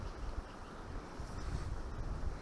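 Strong wind buffets the microphone at a fishing spot by the water, making a steady, rough low rumble with gusty surges and no voices.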